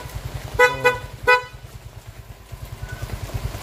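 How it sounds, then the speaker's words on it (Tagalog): Aftermarket PIAA car horn honks three quick loud blasts near the start over a rhythmic idling engine chug that continues alone afterward, with no talking. "pag naka-stock, ay pag naka loud horn naman"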